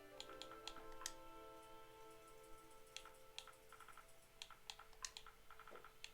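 Soft, rapid clicks from a game controller's D-pad used to type text, an irregular stream of small ticks over a sustained, quiet musical tone.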